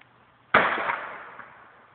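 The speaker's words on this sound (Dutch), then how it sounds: "We zijn hier al helemaal aan het knallen." A single sharp New Year's firecracker bang goes off, then a crackling, hissing tail fades away over a second or so.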